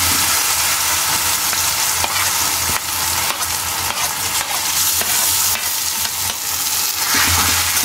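Grated raw mango hits a pan of frying spices for mango thokku, giving a loud, dense sizzle with continuous stirring and scraping close up and no talk.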